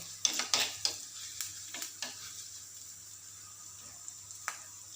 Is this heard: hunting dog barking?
no